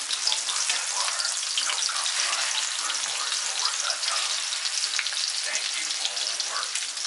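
A pork chop fries in a pan, giving a dense, steady crackling sizzle that holds at an even, fairly loud level throughout, with no one speaking.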